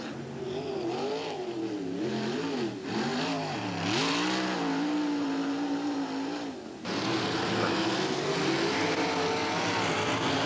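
Powerful winged race cars roar around a flat quarter-mile oval in central Pennsylvania in 1993. Loud engines rise and fall as they pass close by, with a sharp revving swell partway through and a dense, continuous roar afterward.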